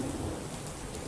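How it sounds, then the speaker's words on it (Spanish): Steady, dense thunderstorm rain with a broad rumbling wash of storm noise filling the whole moment, no voices. "la tormenta"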